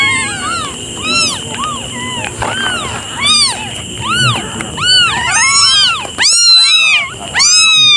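Several cats meow loudly and repeatedly, overlapping cries following one another in quick succession with a steady hum behind them.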